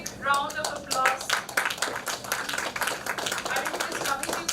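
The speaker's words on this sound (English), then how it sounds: "Let's have a big round of applause." Applause rises from an audience at a felicitation ceremony for a national data science workshop, a dense patter of clapping that swells and thins over several seconds, with a voice speaking faintly beneath it.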